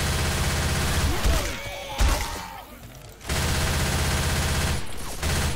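Bursts of automatic gunfire in a first-person shooter video game, loud sustained volleys broken by brief pauses and a few heavier thuds.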